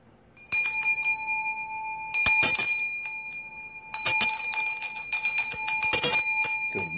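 Hand bell of a sorbetes (Filipino ice cream) street vendor ringing in repeated bursts of quick clangs, loud and close, with pauses between bursts.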